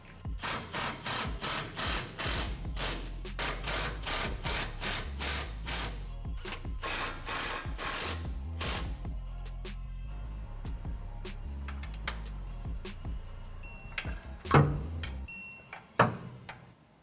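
A wrench tightens the 3/8 and 7/16 coil-over bracket bolts on a 1962-1987 Chevy C10 during a QA1 coil-over conversion: steady rapid ratcheting for several seconds, then quieter metal handling and two sharp, close clicks near the end.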